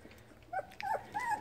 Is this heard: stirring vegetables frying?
no